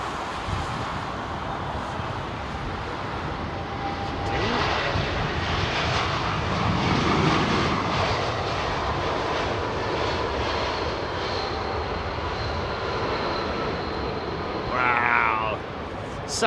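A TAP Airbus A320neo jet lands on Heathrow runway 27R and brakes hard, its steady engine roar swelling midway as reverse thrust builds, then easing off, with a faint voice briefly heard.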